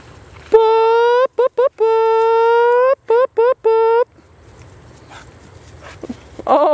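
High-pitched drawn-out whines from bird dog puppies alternate with quick bursts of little yips, close and loud, then fade into quiet shuffling before one more yelp.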